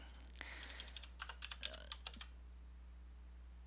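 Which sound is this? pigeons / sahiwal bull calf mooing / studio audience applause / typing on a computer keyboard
typing on a computer keyboard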